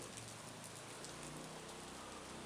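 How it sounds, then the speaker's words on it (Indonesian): Rain falls steadily, and there are soft pattering drops on the surfaces nearby. The shower is faint and continuous, with no voices over it. "Tahu-tahu hujan."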